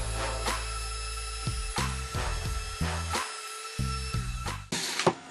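A small 1.5 mm drill bit bores into the centre of a wooden clock stand, a power tool whirring in several short bursts separated by pauses, close and clear without talk.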